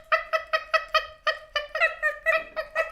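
Penguins trade short huck contact calls, a run of about a dozen clipped, nasal barks in a steady rhythm, fairly close and clear with no talk over them.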